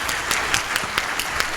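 Applause from a conference audience, a steady patter of many hands clapping with a few sharper claps standing out, no voices.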